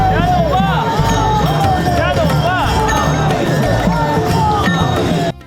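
Dense crowd of pilgrims at the Wakhari camp during the Pandharpur Wari, a steady babble of many voices, calls and shouts close by, with no single speaker standing out.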